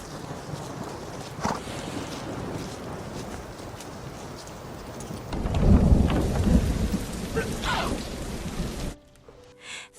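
Steady rain patters throughout, with a heavy rolling thunderclap swelling midway before the sound cuts off, with no talk over it.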